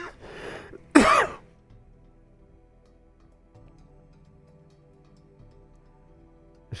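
A person with a lingering post-COVID cough clears their throat and coughs once, loud and close, then goes quiet with only faint room hum and a soft tick near the end.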